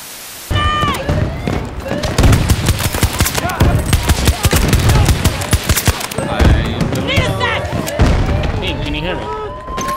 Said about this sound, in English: There's so many alarms and explosions.